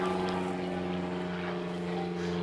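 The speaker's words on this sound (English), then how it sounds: "Airplane." A propeller airplane drones overhead, a steady tonal engine hum with a low rumble, fairly loud and unbroken.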